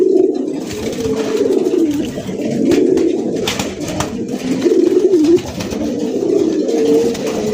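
Close, loud cooing from a fancy racer golla pigeon at a breeder's loft: repeated throaty rolling coos recur every second or so throughout, with no voices in between.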